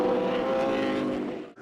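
Touring cars race at Winton Motor Raceway in round 5 of the 1997 Shell Australian Touring Car Championship, with loud, sustained engine roar from a close pack that fades away at the end.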